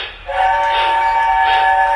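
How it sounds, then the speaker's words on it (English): A Lionel ready-to-run model steam train sounds its whistle, a steady steam-style tone that starts after a short pause and holds loud and close for about two seconds, with no talking. "Daddy forgets that it's a steam engine, so it's a whistle."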